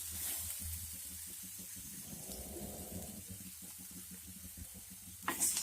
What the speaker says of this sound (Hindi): मैं इसको स्पैचुला की मदद से स्टर कर रही हूँ।